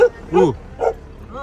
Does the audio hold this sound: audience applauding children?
no